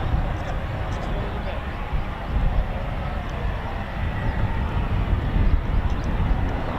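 Eurofighter Typhoon FGR4 jets at RAF Coningsby idle and taxi ahead of departure, giving a constant low, rumbling engine roar with gentle swells in loudness, heard from some distance.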